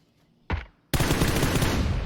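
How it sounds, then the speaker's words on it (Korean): Gunfire in a PUBG match during a Kakao esports tournament: after a short blast, a sustained loud volley of rapid automatic shots follows, dense and continuous. "총 쏘고 있죠"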